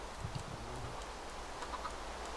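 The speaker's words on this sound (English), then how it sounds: "Yeah, we got three chickens in there." Chickens cluck faintly in the survival video game Fear The Night, with a few soft, brief calls early on over a low, steady background hum.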